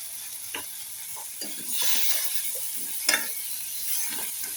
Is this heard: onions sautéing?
yes